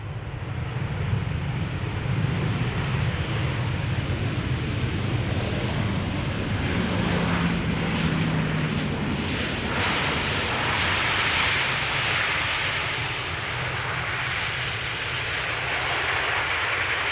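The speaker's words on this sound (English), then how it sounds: "This is KLM flight 1042 coming in, arriving from Birmingham. KLM 737-900." A KLM Boeing 737-900 jet arrives at Amsterdam Schiphol Airport on a flight from Birmingham, its engine roar steady and broad throughout, loud and sustained with a faint wind-like rush and no voices.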